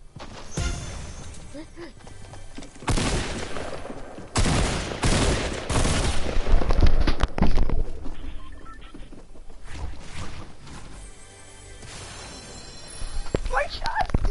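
Fortnite gunshots crack out in scattered bursts and heavier volleys, rising to a dense loud stretch midway, with players talking over the game sounds.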